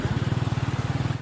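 A motorcycle engine putters at a steady low idle-like rhythm while crossing floodwater, a close, even pulsing thrum under a wash of broadband noise.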